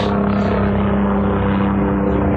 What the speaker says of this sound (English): Ah, here comes the helicopter.